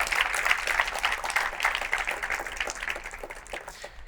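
Congregation in a church breaks into sustained, dense applause, a steady wash of many clapping hands that holds for several seconds before thinning slightly at the end.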